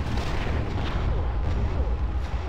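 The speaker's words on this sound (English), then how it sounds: "What guns are you bringing out next?" Dense, continuous gunfire from the video game Conker's Bad Fur Day, heavy booming shots packed closely with no real gaps, loud and steady throughout.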